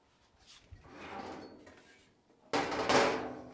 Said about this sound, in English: Sorry for the loud banging.